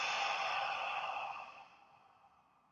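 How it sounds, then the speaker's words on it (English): One long, slow exhalation through the mouth after a deep breath, a soft breathy rush that starts fairly strong and tails away over about two seconds, close and quiet with no talking. "and breathing out through the mouth."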